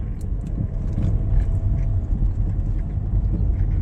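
Inside a car during a driving lesson, the engine gives a steady low rumble with faint interior rattles as the car moves along and the gears are changed.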